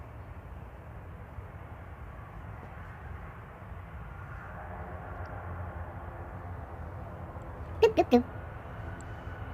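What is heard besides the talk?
airliner taxiing out at Manchester Airport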